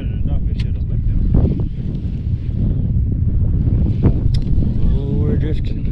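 Wind buffets the microphone on a fishing boat drifting on open water, a loud, constant low rumble with gusting swells, while people talk faintly in the background.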